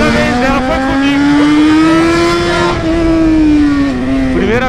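A Yamaha XJ6 motorcycle being ridden, its engine droning loud and close with a steady pitch that rises and falls slightly as it moves.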